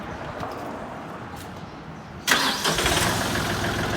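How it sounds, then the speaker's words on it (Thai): A used 39-horsepower engine cranks and catches about halfway through, jumping from quiet background into a steady running rumble close by. "เดี๋ยวขอฟังเสียงเครื่องยนต์นะคะ"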